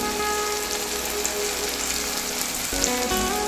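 Ginger-garlic paste frying in a hot pan, a steady close sizzle and crackle with a faint stirring clatter near the end, no voices.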